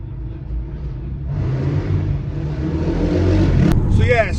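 A Ford Escort Cosworth replica's engine idles with a low burbling drone, then swells into a louder, rougher growl as revs rise, staying close and continuous to the end.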